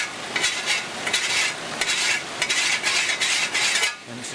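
A flat file drawn diagonally across a garden shovel's edge, giving a steady run of rasping metal strokes at close range, with no talk.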